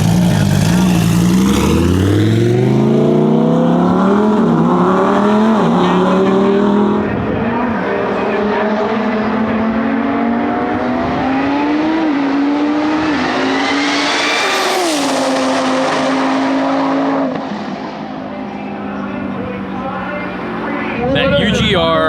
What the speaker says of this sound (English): STO just went 229 mile an hour.